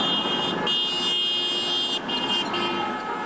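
Car horns honk repeatedly over passing road traffic at a street demonstration, sustained toots that break off briefly, close and fairly loud.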